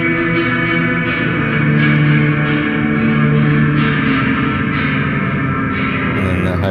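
A sustained electric guitar chord through a rotary pedal's reverb, built on Faust and Teensy 4.0, washed in heavy reverb, ringing and smeared with a long, spacious tail.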